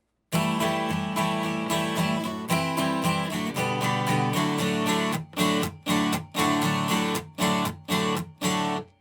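Strummed acoustic guitar chords playing the refrain of a song in a steady rhythm, sustained at first and then in short, punchy bursts separated by brief gaps, played close and clear.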